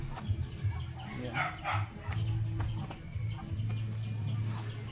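Chickens cluck on an island, low repeated clucks and short calls close by, mixed with brief bursts of talking and a scuffling background.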